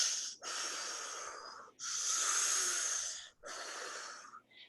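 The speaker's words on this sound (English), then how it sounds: "You better take the biggest breaths of your day." Three long, deep breaths drawn and pushed out hard during a rest break in a home Orangetheory-style workout, each a loud, airy rush separated by short pauses, close to the microphone with no talking.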